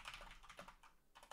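Quick bursts of typing on a computer keyboard, very faint and close, with uneven key clicks and short pauses between them.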